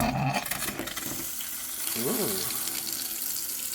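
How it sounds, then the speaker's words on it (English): Water gushes steadily from a newly replaced kitchen mixer tap, a continuous splashing hiss, with a brief voice-like warble partway through. "So water coming through."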